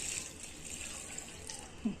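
Water pours steadily into a mixer jar holding salted ground curry paste ingredients for a Kerala-style taro root (colocasia) curry, a continuous close splashing trickle with no talk.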